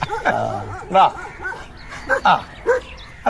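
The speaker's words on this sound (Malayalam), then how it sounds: "താളത്തിലാ കൊര കേട്ടോ. നല്ല കലാബോധമുള്ള പട്ടിയോളാ" Several dogs bark and yip in quick, fairly rhythmic bursts at night, mixed with whimpering yelps, while voices talk in the background.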